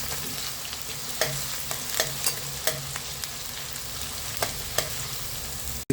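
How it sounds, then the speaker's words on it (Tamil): Spoon stirring spices and crushed ingredients frying in a pan for Kerala-style fish moilee, with soft continuous sizzling and several sharp scraping clicks against the pan at close range. "போட்டு நல்லா கிண்டி விட்டுக்குவோம்."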